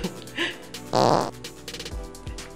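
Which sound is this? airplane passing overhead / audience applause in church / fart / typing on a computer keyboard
fart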